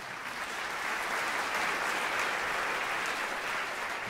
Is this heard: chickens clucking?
no